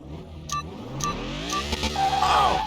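Inline-four turbocharged Rabbit in Car Mechanic Simulator 21 revving up in a loud, rising sweep with short clicks at regular intervals, rather close and alone.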